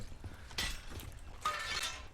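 Window glass breaking in Rainbow Six Siege: two bright shattering crashes about a second apart, fairly faint, among low thuds and game noise.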